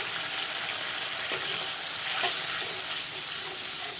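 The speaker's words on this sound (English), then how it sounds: "and I will fry the masalas" Masala spices with turmeric fry in a pan for a green banana curry, making a soft, steady sizzle broken by occasional scraping stirs.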